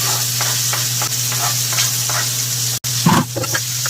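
Onion and tomato go into a soybean masala in a hot pan, making a loud, constant close sizzle with scattered scraping stir strokes throughout and a brief clatter near the end.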